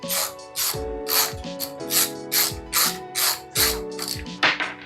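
A ratchet wrench loosens the nuts holding the cover and carburetor on a 6.5 hp Thai long-tail boat motor, giving close, loud bursts of rapid clicking, about nine short runs with brief pauses between them.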